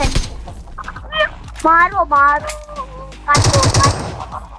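In the mobile game BGMI (PUBG Mobile), a loud rapid burst of automatic gunfire comes near the end, after several tonal, honk-like game sounds.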